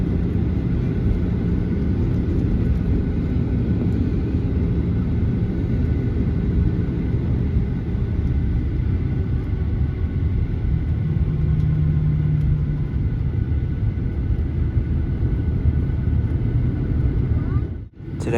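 Jet engines on a Rex airliner hum steadily while it taxis at Melbourne Tullamarine Airport, a constant loud rumble heard from inside the cabin.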